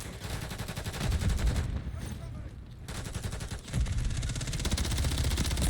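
Rapid automatic gunfire from a Call of Duty match rattles in loud continuous bursts, with a brief lull in the middle before the sustained firing resumes.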